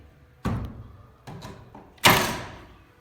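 A Milwaukee nail gun with a jamming fault fires nails into a beadboard ceiling: three sharp, close thumps, the last much louder and fuller than the first two.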